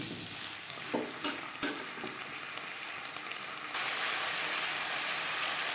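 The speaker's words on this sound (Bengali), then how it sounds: "পেঁয়াজ টমেটো ও মশলার সাথে আলু বেশ ভালো করে মিক্স করে দেবো" Potatoes with onion, tomato and spices being stirred in a hot pan for pangas fish curry: a steady sizzle with several scraping strokes, then a louder, denser frying hiss toward the end.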